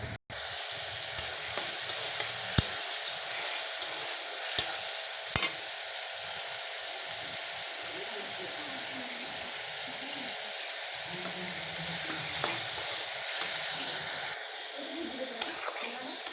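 Ginger, garlic, cumin and tomato paste fry and are stirred in a pan, a steady loud sizzle broken by a few sharp clicks of the spoon.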